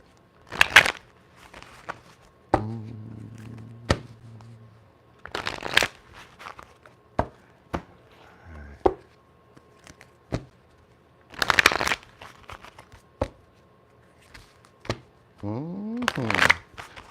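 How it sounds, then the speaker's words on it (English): A deck of cards being shuffled up close: several quick riffling bursts and soft taps and flicks in between, with no talking. "let's shuffle these up real quick"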